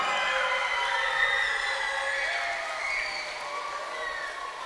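Audience applause for a guitarist after his performance at a music-history lecture, a wash of clapping that holds steady and then gradually thins and fades toward the end.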